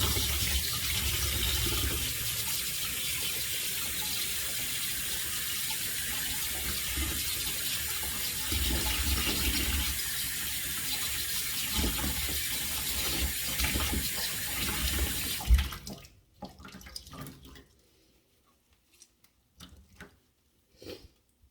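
Cold water runs from a tap into a sink onto a wet shirt being scrubbed for ink, a loud steady rush for about fifteen seconds before it cuts off, leaving faint scattered handling sounds.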